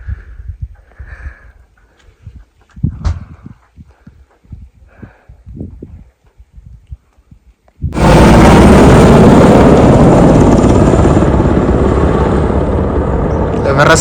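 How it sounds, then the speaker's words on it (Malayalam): A helicopter passes over high Himalayan trekking country near Gokyo, heading toward Everest: after quiet scattered knocks and breathing, a loud, sustained broadband roar takes over abruptly and holds steady at close range. "എവറസ്റ്റിലേക്ക് പോവാന്ന് തോന്നുന്നു, ഹെലികോപ്റ്റർ."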